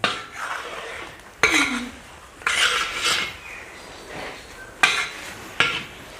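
Panjiri being mixed with sugar in a pan: intermittent scraping and rubbing of a spoon through dry mixture, with several sharp clinks against the metal, close and fairly loud.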